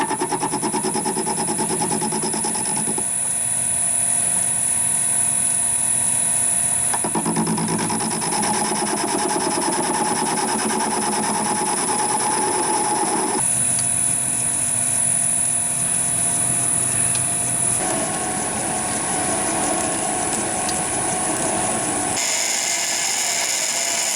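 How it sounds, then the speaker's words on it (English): Lathe turning a length of stainless steel hex bar with a long stick-out, taken slowly; a steady high-pitched whine and continuous machining drone run throughout, shifting in tone across several cutting passes with no talking. "So we've got a fair old bit of stick out on the lathe, so we shall take it nice and easy."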